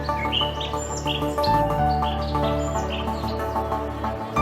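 Bright, rapid parrot chirps and tweets repeat over a steady tonal background, busy and fairly close, with no talking.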